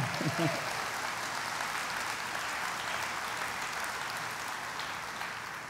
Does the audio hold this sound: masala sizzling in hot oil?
no